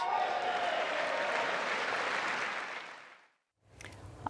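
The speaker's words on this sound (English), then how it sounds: "a lot of people would cheer for that" Audience at the State of the Union address cheering and applauding in a sustained, loud wave that fades out over a few seconds, followed by a brief silence and the start of a voice.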